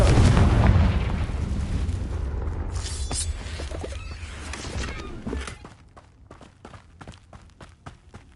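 A Confringo blast spell erupts in Hogwarts Legacy with a loud, booming explosion that rumbles and fades over several seconds, followed by scattered sharp taps and footstep-like clicks.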